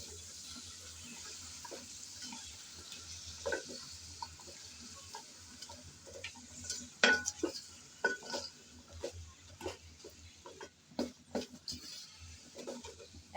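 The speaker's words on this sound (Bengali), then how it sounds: "শুধু লবণ দিয়েই আলু আর গাজর নেড়েচেড়ে ভেজে নেব।" Potatoes and carrots stir-fried with salt give a soft background sizzle broken by irregular scrapes and clatters of a spoon against the pan, growing busier toward the end.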